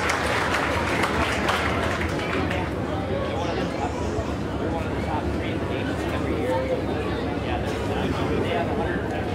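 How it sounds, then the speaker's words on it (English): A crowd at a speedway race event claps and cheers steadily, a dense wash of applause sustained throughout, with voices mixed in. "ladies and gentlemen, how about a big round of applause for Brandon Carlson?"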